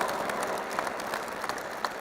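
A crowd claps continuously at an interfaith harmony conference on a campus, dense applause from an audience with no pause throughout.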